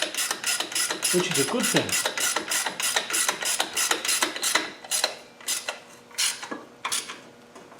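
A wrench or ratchet clicks in rapid repeated strokes while a bolt on the cover of a Land Rover Defender 300 Tdi engine is snugged up, loud and close, with a voice speaking briefly partway through.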